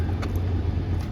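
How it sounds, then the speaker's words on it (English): The engine of a 1998 Mitsubishi Pajero Evolution runs with a steady, close low rumble, just after it fires up, with no voices. "fires right up."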